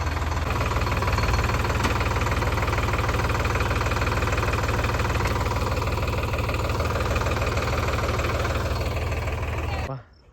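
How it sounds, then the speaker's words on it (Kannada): A tractor engine runs on a farm field, a loud, close, steady knocking diesel chug that holds unbroken for about ten seconds before cutting off abruptly at the end. "ಬಂತು ಟ್ರ್ಯಾಕ್ಟರ್"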